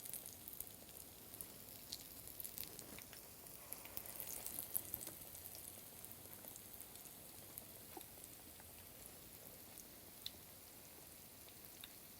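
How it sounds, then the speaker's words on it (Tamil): Quiet, continuous sizzling and crackling of hot oil in a pan heated for frying vegetable vadai, with scattered tiny pops over a soft hiss. "இப்போ ஆயில் நல்லா கொதிக்கி வந்துருச்சு"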